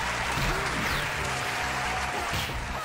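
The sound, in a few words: applause sound effect played on a fighting game stream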